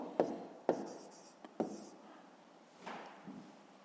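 Pen writing on paper while working a 5th-grade math exercise, a few close sharp scratching strokes and taps in quick bursts, quiet and otherwise alone.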